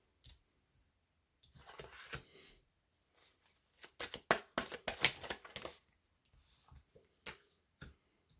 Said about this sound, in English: the cards just went flying